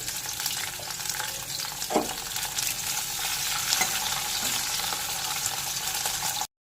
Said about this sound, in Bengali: ওই তেলে উচ্ছেগুলোকে দিয়ে একটু ভেজে নেব।